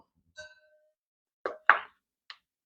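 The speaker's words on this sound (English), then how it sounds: "Show you just how easy those pop out." Ice cubes popping free of a silicone ice cube tray, a few separate soft plops and knocks spaced apart, close and fairly quiet with no talk.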